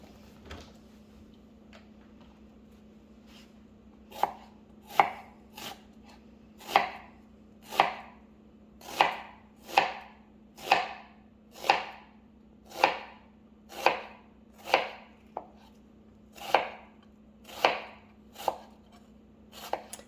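A sharpened kitchen knife chops vegetables, including onion, on a cutting board for split pea soup: about fifteen crisp, evenly spaced chops, close and distinct, over a steady low electrical hum and no talking.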